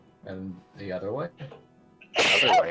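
A single loud, sharp sneeze bursts out near the end, right after a few short spoken phrases.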